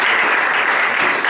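A brief burst of full, dense applause from a conference audience at a climate policy talk, loud and steady throughout without gaps or voices.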